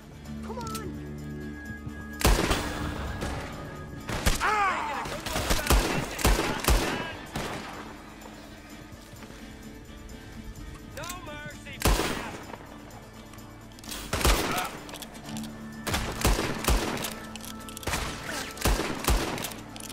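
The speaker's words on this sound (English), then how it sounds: "Come on, shoot the lock." Gunfire rings out in Red Dead Redemption 2 as shots are fired to break a lock, with loud, sharp bursts in irregular clusters and occasional rapid volleys over a quieter background stretching across the whole span.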